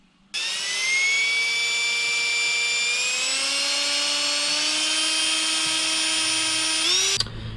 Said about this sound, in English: Alright, just got the hole all drilled out.